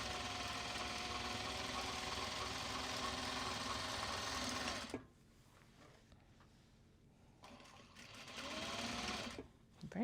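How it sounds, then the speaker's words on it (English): Sewing machine back stitching the pocket of a Japanese fabric bag, a steady loud whir for about five seconds, then a stop and quiet handling, followed by a shorter burst of stitching near the end. "A little bit of back stitching on both sides of the pockets because that is a stress point."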